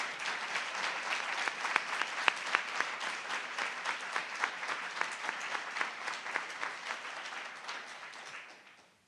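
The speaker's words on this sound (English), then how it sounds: "I just want to give one more round of applause for all of our award winners today." A seated audience at an alumni awards presentation claps steadily for the award winners, a dense and even patter that holds for several seconds and then fades out toward the end.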